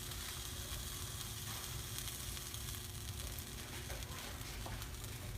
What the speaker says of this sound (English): you start hearing that nice sizzle that says, hey, we're getting good